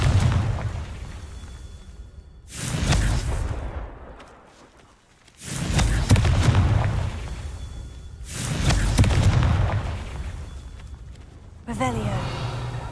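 Confringo fire spell blasts in Hogwarts Legacy, three loud booming bursts a few seconds apart, each with a roaring rush that slowly decays, followed by a crackling magical flare at the end.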